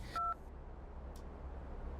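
A phone gives a single brief electronic message notification beep at the start of a Telugu film comedy scene, followed by quiet room hiss.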